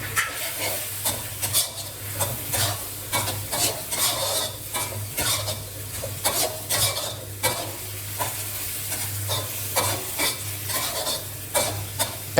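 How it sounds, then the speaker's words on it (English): Pork belly, shallots and lemongrass stirred into a sizzling Thai shrimp-paste sauce, with steady frying hiss and repeated scraping stir strokes of a utensil against the pan, close and continuous with no talk. "Add the pork belly, remaining shallots, and the lemongrass into the sauce and stir in."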